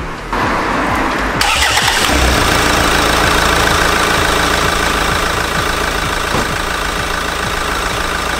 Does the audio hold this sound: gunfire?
no